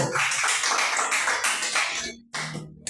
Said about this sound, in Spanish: ¿Cuánto le dan un aplauso al Señor? Dan un aplauso.